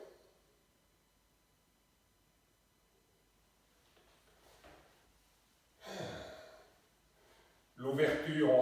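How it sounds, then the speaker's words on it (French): Deep breaths during xingyiquan practice, slow and close, a couple of long audible exhalations and inhalations rising out of near silence. "Quelques respirations."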